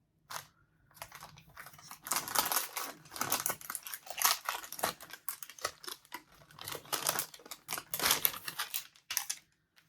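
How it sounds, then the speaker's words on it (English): Crinkly packaging rustles and crackles in bursts as a white felting craft kit from an advent calendar is opened by hand, with close, dry paper and plastic crumpling noises rising and falling over several seconds. "Ready for some rustling?"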